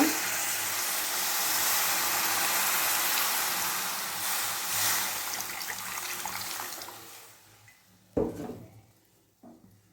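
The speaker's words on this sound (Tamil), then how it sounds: "இதில் தண்ணி ஊற்றிக்கோங்க" Water pours into frying masala in a hot pan with a loud, steady sizzling hiss that gradually settles, followed by a couple of sharp knocks of a utensil.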